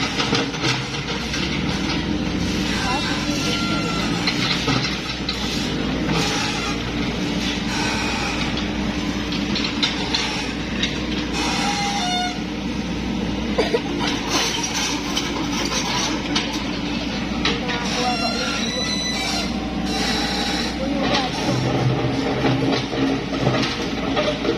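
Tractor engine at a renovation project site, a constant heavy low rumble running under the whole stretch, fairly loud and steady, with scattered clanks and site noise on top.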